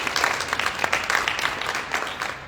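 Audience members at a NAACP Women's History Month luncheon give a short round of applause, a moderate, steady patter of many hands clapping.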